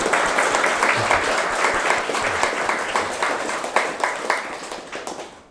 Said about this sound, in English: we really need to clap for these 5 teachers